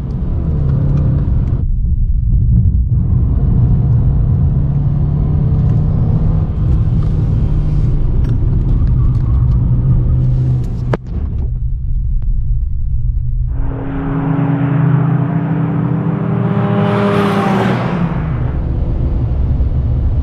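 Loud, close engine roar from a car with a stock engine on a race track at Lurcy-Lévis, droning continuously, its pitch climbing and dropping through revs and gear changes.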